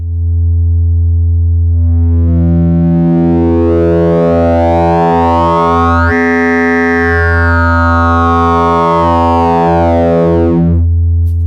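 Sputnik Modular synthesizer wave folder producing a sustained, loud, buzzy tone whose harmonics sweep and fold continuously, brightening and thinning in waves over about eleven seconds, heard alone with no talking.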